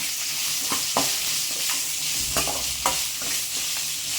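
Okra sautéing in a pan for a coconut-free tamarind curry, with a steady broad sizzle and several sharp scrape-and-stir knocks of a spatula spaced through it, close and alone.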